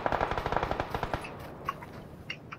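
Rapid automatic gunfire in PlayerUnknown's Battlegrounds, dense bursts of shots in a steady rhythm that thin out into a few scattered, sharper reports toward the end.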